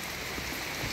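Heavy rain pours steadily on a flooded farm plot after a typhoon, a dense, even hiss with no pauses over a short moment.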